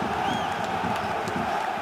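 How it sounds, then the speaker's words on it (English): Football stadium crowd at a DFB-Pokal cup match between 1. FC Saarbrücken and Fortuna Düsseldorf, a dense, excited roar with cheering, steady and loud for a brief moment. "As the crowd get excited just over the hour mark."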